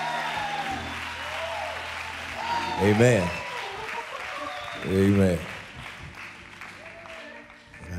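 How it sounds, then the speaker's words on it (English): Church congregation clapping for Bishop and Sister Foster, a soft continuous patter under organ chords, broken by two loud sung or shouted calls of praise. "would you get loud and clap your hands?"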